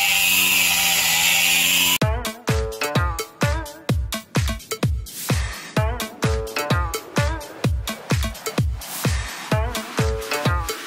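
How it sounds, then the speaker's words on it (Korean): An angle grinder fitted with a wire brush works the underside of a cast iron pot lid, starting with a steady harsh whine, then shifting to a series of loud, rhythmic pulsing bursts as the brush bites and lifts. "요 면을 그라인더로 재빠르게 이제"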